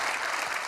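Audience applause during an interview about a Yankees career, a brief steady wash of clapping from a crowd, fairly quiet and heard alone without talk.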